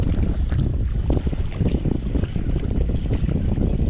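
Strong wind blowing across a lake cove during a bass fishing trip, a steady loud rush buffeting the microphone with low rumble, no one talking.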